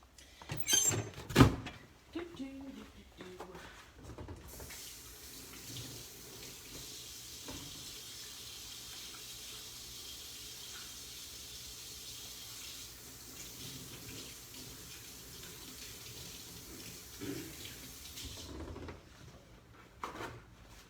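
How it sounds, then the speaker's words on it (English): A kitchen tap runs steadily for about fifteen seconds while hands are washed at the sink after handling ground turkey, framed by brief knocks and clatter at the start and end. "And then let me go wash my hands."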